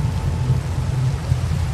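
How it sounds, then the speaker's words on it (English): Steady rain pours with a low rolling rumble of thunder beneath it in a Minecraft storm, a dense continuous hiss with no talking. "Lightning."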